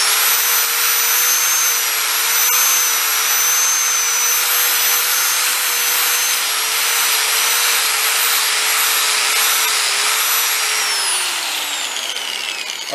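A power sander whines steadily on a rusty part from a 1974 Honda ST90 motorcycle, a loud, continuous high-pitched motor tone that holds for most of the stretch, then winds down near the end, with no talking.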